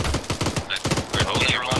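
Rapid automatic gunfire from a squad laying down suppressing fire in Arma 3, a fast stream of sharp close shots with a brief pause midway, while players talk over it.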